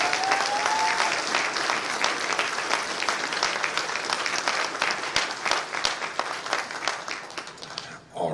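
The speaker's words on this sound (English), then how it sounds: "I would like to give you a round of applause right now for that" Sustained, dense applause from a crowd at the IFC 2024 closing ceremony, honouring the event team, continues steadily for about eight seconds before stopping abruptly near the end.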